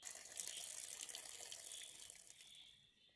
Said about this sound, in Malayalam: ഇനി അത് നന്നായിട്ട് കഴുകിയെടുക്കാൻ പോവുകയാണ്.